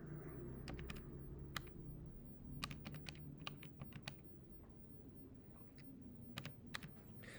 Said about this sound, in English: So let me retype my numbers.